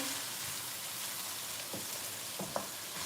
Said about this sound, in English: I'm just going to stir our onions right here.